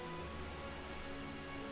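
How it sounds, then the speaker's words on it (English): Rain falls in the Uncharted Waters Online sailing game as a faint, steady hiss of drops on a surface, continuous and even throughout with no voices. "the rain is coming to a stop"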